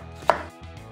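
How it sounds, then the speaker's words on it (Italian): A kitchen knife chopping onion into small cubes on a cutting board for meat empanadas, a single sharp, close cut followed by fainter board taps, no talking. "cipolla, che andremo a tagliare a quadratini piccoli, così favoriamo un po' la cottura"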